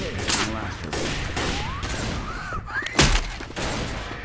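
Gunfire in Left 4 Dead 2 during an online survival match, scattered shots and a loud close blast mixed with chaotic game effects and shouting players.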